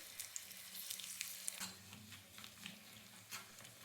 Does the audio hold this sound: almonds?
yes